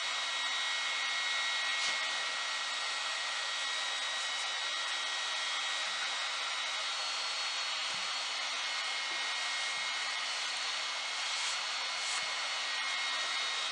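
A heat tool warms veneer glue on a 1910 Singer sewing machine, giving a steady, close, continuous blowing whir with a faint electric hum that holds throughout.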